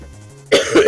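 A single sharp cough bursts out after a quiet stretch, loud and close, followed by a second rougher cough.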